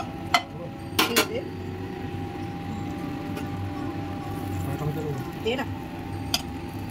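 Chopped vegetables placed one by one into a buttered pan, giving a few sharp clinks and taps of utensil on metal over a low steady hum, with a voice talking nearby.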